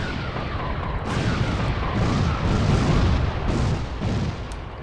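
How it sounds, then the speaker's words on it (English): A MIRV missile weapon firing in the vehicular combat game Twisted Metal 4 sets off a string of heavy, booming blasts and bursts over a continuous rumble, loud and close with no voices. "we are gonna smash him with this MIRV"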